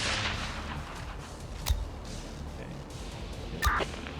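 Gunfire in the Infection Free Zone video game: two distant, sharp shots roughly two seconds apart, set over a low, steady game ambience.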